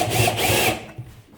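Parkside PABS 12 B2 12 volt cordless drill whines as it drives a screw, a close motor burst lasting under a second before stopping, followed by a brief short blip.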